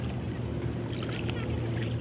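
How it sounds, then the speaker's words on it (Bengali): A small wooden rowboat moves along a river with oars dipping into the water, soft splashes and lapping over a steady low wash of water and wind. "ছলাৎ ছলাৎ শব্দে দাঁড় বেয়ে যাওয়া ছোট্ট নৌকা"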